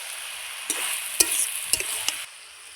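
Chopped tomato goes into vegetables frying in a kadai, a bright, close sizzle with several sharp spatula knocks before the hiss drops to a softer simmer, with no talk.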